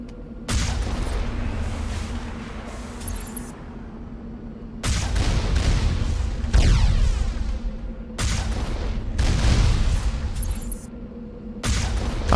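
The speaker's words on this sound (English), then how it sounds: "They're shooting at me." Enemy gunfire and rocket blasts in Mass Effect Legendary Edition hit in loud, dense bursts lasting a few seconds each, with brief near-silent gaps between the volleys.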